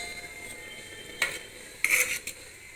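Cooking pot being opened to check simmering ash gourd and green chillies for pulissery, with a couple of brief metallic clinks and a scraping clatter of the lid over a quiet kitchen background.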